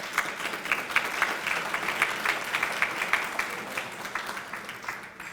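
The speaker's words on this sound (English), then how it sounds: "So let's give our students a round of applause." Banquet audience at a school academic excellence event gives a steady, moderately distant round of applause, with dense overlapping claps that fade slightly toward the end.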